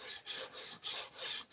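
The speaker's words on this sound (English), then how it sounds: "Now I've got a nice little sanding disc, something fairly fine." Fine sanding disc rubbing over a wooden piece to distress it before antiquing, a close raspy scrubbing in five steady back-and-forth strokes with brief gaps between them.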